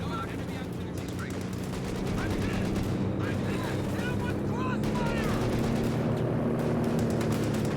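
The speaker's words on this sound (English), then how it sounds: "Incoming HMG fire." Heavy machine gun fire rattles in a Company of Heroes 2 match, a continuous stream of fast, close bursts over a low rumbling battlefield drone.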